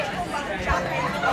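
Busy street crowd chatter on a Williamsburg, Brooklyn sidewalk in fall: a dense, steady babble of many nearby voices with no single speaker standing out.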